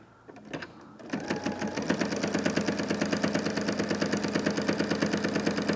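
A sewing machine fitted with a walking foot runs steadily, stitching diamond quilting rows along a tape edge, its needle beating in a fast even rhythm up close after a brief start.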